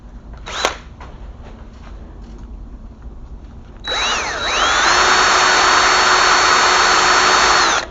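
A sharp click, then a power drill starts up loud and close, whining steadily at high speed for several seconds while drilling into wood for a miniature birdhouse.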